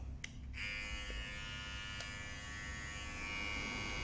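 Babyliss Metal Lithium GOLD FX cordless hair clipper switched on, a steady close electric buzz that runs without pause after a couple of faint clicks, with no voices.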